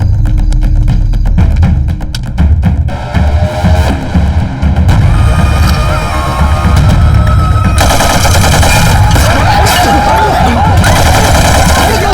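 Dense gunfire from an action movie fight scene, rapid machine-gun bursts and shots stacked over a throbbing, loud soundtrack, with short breaks and voices mixed in.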